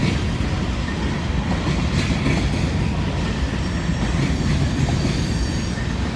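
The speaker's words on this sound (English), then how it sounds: "2-in-1 train." A long freight train rolls steadily past nearby at Hamilton and Somerville, with a continuous heavy rumble, clicking wheels on rail joints and faint squealing, no voices.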